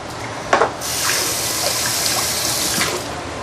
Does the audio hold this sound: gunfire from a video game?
no